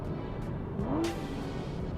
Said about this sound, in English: find me another manual V12 car that sounds that good